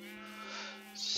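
A Minecraft sheep gives a single wavering bleat, near and clear, followed by a short burst of noise at the end.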